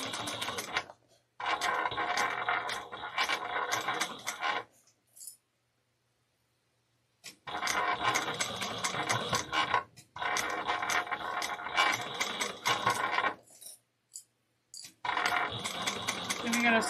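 A sewing machine stitches through a circle bag and a retro bag in bursts of steady mechanical whirring and rattling, several runs of a few seconds each, separated by fully silent pauses.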